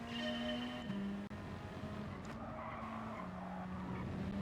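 A race car in Gran Turismo Sport holds a steady engine drone that drops in pitch with gear shifts, while tire squeal and skidding run continuously underneath, close and moderately loud with no talking.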